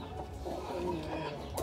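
Hens cluck softly in a farmyard where a hen sits on eggs, with low, irregular calls that stay fairly faint over a murmuring background.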